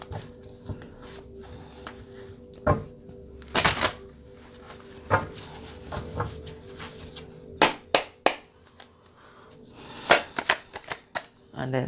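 Tarot cards being shuffled and pulled from a deck, a run of crisp riffling and snapping card sounds in uneven bursts, with a voice talking at times.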